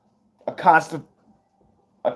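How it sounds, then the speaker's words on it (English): A person hiccups during a political talk, giving two short voiced bursts about a second and a half apart, the first longer and louder, with silence between. "Excuse me, I got hiccups."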